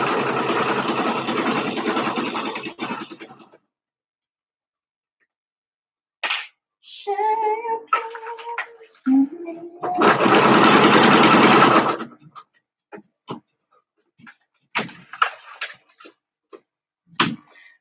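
A sewing machine top-stitching runs in two loud, steady bursts of rapid stitching, separated by quiet gaps filled with clicks, brief whirs and small handling noises.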